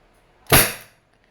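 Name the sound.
Wingun 702 airsoft revolver firing double action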